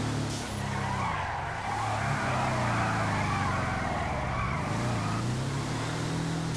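Car in GTA 5 drifting during a Volkswagen Beetle race: loud, sustained tire squeal and skidding over a revving engine whose pitch swoops up and down, continuous throughout with no voices.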